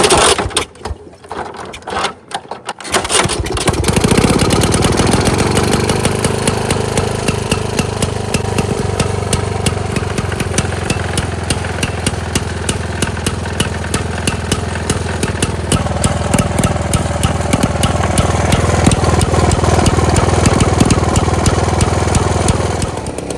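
A 1922 Neracar motorcycle engine is kick-started and catches, then settles into a loud, steady, close-up running putter with a fast regular firing beat that holds throughout.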